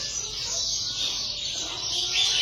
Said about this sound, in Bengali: এই পাখিটা অনেক সুন্দর করে ডাকে